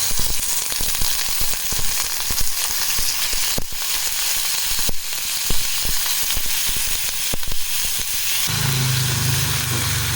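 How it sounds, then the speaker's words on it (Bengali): Bombay duck (loitta) fish dropped piece by piece into hot oil, giving a loud, dense, steady sizzle for about eight seconds before it turns quieter with a lower hum. "তেল গরম হয়ে গেছে, একে একে করে মাছগুলো এর মধ্যে ছেড়ে দিচ্ছি।"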